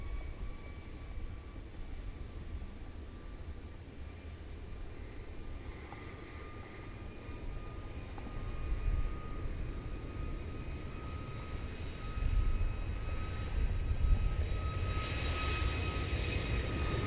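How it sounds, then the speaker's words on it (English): Air Seoul Airbus A321 taking off from Seoul Incheon for Osaka, a faint, distant jet rumble with a thin engine whine that swells gradually toward the end. "Air Seoul lifting off for Osaka in Japan,"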